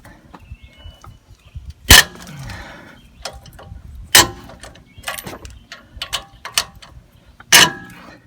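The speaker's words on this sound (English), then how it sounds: "got an 18mm wrench and a socket. I can get this sway bar off." Ratchet wrench clicking on an 18mm socket while loosening a sway bar bolt on a Trailblazer front end, with irregular bursts of close mechanical ratcheting and a few sharp metallic clanks.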